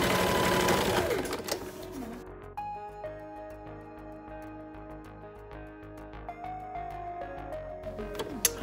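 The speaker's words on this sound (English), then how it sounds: "So I'm gonna be sewing this now so that we can fit it as well at the same time as we fit the rest of the bodice." A sewing machine stitches the bodice seams of a satin silk dress, running steadily for several seconds after a louder start, close and alone with no talking.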